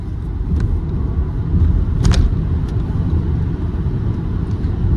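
A Zeekr X AWD electric car accelerates at full throttle in sport mode, heard from inside as a loud, steady low road rumble, with a few faint clicks and ticks above it.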